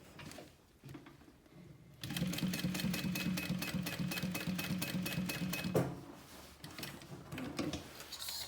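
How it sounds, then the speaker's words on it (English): A sewing machine stitches a row on a handmade wallet, a fast even burst of needle strokes for about four seconds after a few quiet handling sounds, close and clear. "Then I'm gonna flip it over and sew this first row"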